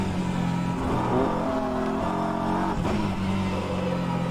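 GT3 race car engine in rFactor 2 sim racing, a BMW, Corvette or Ferrari, revving steadily at high pitch with small dips during gear changes, loud and continuous throughout.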